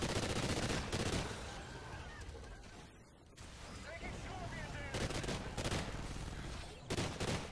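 Rapid gunfire bursts in the video game Call of Duty Ghosts Extinction, loud repeated shots in clusters with a brief lull midway, mixed with game sounds and a voice talking.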